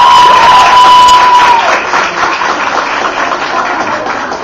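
Graduation ceremony crowd at a beauty academy applauding and cheering, a loud, close wall of clapping with shouts and whoops that peaks early, then eases while a steady tone sounds briefly at the start.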